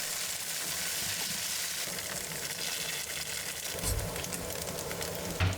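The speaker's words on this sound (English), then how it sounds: "Add oil and pan-fry tofu on medium heat until they are golden on both sides." Tofu pan-frying in oil over medium heat, a steady dense sizzle throughout with a brief clatter near the end, close and fairly loud, no talk.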